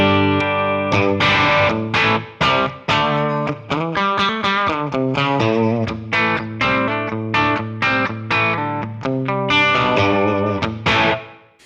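Electric guitar played through a Kemper amp profiler with its channels jumped together, rhythmic distorted chords and single notes in a steady strumming pattern, loud and close with no talking.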